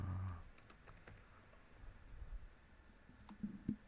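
Quiet tapping on a computer keyboard, a few scattered keystrokes in short runs over a low background hush, no voices.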